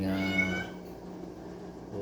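A mother cat with newborn kittens gives one drawn-out meow close by, rising and then fading, followed by quiet room noise and a faint start of another call at the end.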